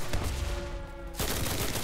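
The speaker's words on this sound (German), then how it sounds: "Oh, das ist eine Schrotflinte." Gunfire from a shotgun in the video game Enlisted: loud, close blasts, with one sharp shot just past the midpoint followed by dense, harsh battle noise.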